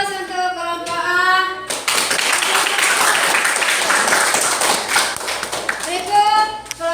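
Classroom applause for a student group: a burst of clapping from many hands fills several seconds, loud and dense, with children's voices speaking briefly before and after it.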